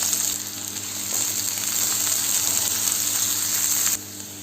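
Curry leaves, chopped onion and a small garlic clove are sautéed in a pan for okra poriyal, a steady close sizzle running under a faint background hum before dropping off abruptly near the end.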